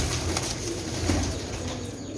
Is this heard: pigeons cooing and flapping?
yes